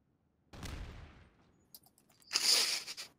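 A barrel blows up in a video game: one sharp, loud blast that fades away, then a second bright, crackling burst follows moments later. No voices are heard.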